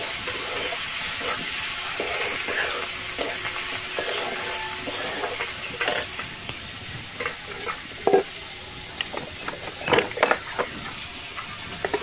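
Tomato and coriander leaves hit a hot pan in a Bengali prawn and mung dal dish, bringing a steady sizzle and hiss under repeated stirring clatters and scrapes, close and moderately loud.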